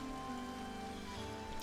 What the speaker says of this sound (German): Wochenlang Regen, das würde mich auch deprimieren irgendwann.